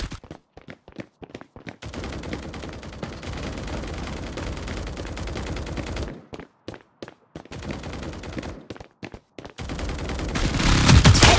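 Bursts of automatic gunfire from the mobile shooter game Hyper Front: rapid volleys of shots broken by short pauses, with heavy sustained firing in the middle and a loud final burst, and no talking.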